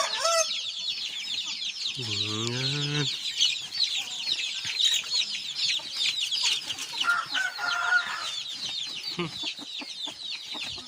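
Aseel and Shamo gamefowl cluck and chatter at a chicken farm in Zamboanga Sibugay, with a dense layer of bird calls throughout, one rooster crowing loudly near the start and someone speaking briefly.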